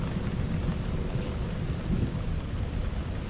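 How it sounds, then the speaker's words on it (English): Steady rain falling outdoors after a run, a dense even hiss with low rumbling, close and continuous, with no voices. "It's raining now."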